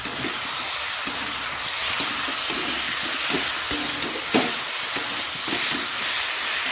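Slit vegetable stems fry in oil with spices, giving a continuous close sizzle. Sharp scraping clicks from a spatula or ladle punctuate it every second or so.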